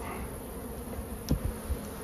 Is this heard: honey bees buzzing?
yes